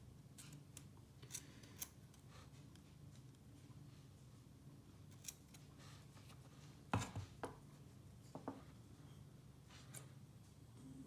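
Scissors snipping the feathery padding fibres off a cable while wiring a 3 pin UK plug, a few sparse quiet clicks and snips scattered over a low steady background hum.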